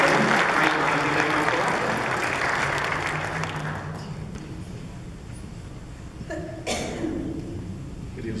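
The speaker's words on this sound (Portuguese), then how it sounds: "Então vamos dar uma salva de palmas então à família" Congregation applauding a family during a Catholic church service, loud dense clapping that fades out over about four seconds, followed by quieter room noise with a few coughs and shuffles.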